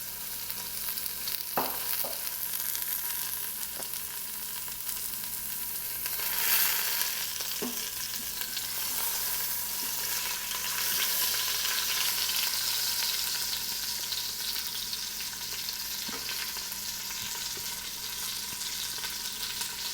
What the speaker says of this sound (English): It's just searing a couple minutes on this side and then we'll be done.